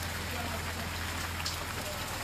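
Heavy rain pours over a street in Kurla East, Mumbai, as a steady broadband hiss with no breaks, close and moderately loud throughout, with a low hum underneath.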